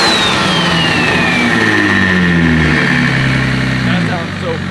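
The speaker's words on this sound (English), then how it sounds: "You hear that turbo whistle?" JZ-swapped BMW engine revs up and settles back near idle while a turbo whistle sweeps downward over the engine, loud and close for the full duration.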